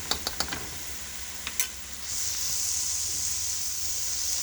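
A spoon scrapes and clicks several times against a pan, then flour and butter hit the hot surface and settle into a steady, close sizzle that continues to the end.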